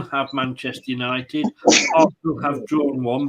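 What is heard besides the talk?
sneeze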